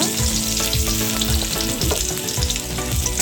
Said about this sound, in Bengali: কড়াইতে খুব সামান্য একটু লিচু চামচ পরিমাণ তেল দিয়েছি সাদা তেল পেঁয়াজ দিয়ে দিলাম